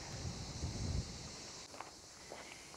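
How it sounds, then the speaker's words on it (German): Strong wind buffeting a microphone outdoors on an overcast day in Northern Cyprus, a constant low rumbling roar throughout with faint rustling near the end. "Ich hoffe, ihr hört mich überhaupt bei dem Wind."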